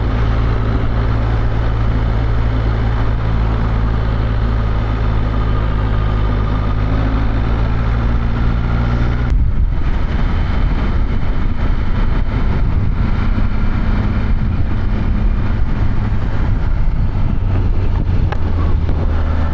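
BMW S1000RR motorcycle engine droning steadily while riding at low, gentle speed, a loud continuous hum with shifting pitch partway through and wind rush throughout.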